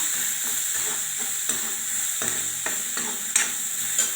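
Onions sautéing in a pan for mango rice, a steady close sizzle with scrapes and taps from stirring scattered throughout, no talking.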